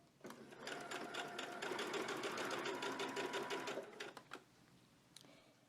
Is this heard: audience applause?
no